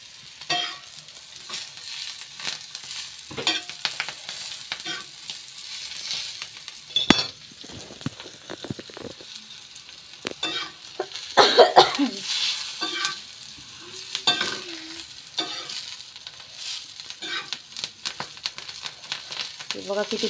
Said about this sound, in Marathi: तर अशा मिरच्या भाजून खायचं